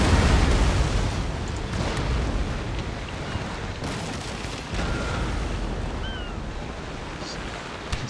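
Naval cannon broadside in Napoleon: Total War, a heavy rumbling roar of guns firing together at sea, sustained and boomy with surf-like wash and no clear separate shots.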